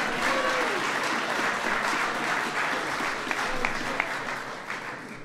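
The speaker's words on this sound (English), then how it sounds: "go ahead and give Tim a big round of applause" A large audience at a White House event honoring the NCAA champion Louisville Cardinals basketball team gives walk-on Tim Henderson dense, sustained applause, with a few sharper claps standing out near the end.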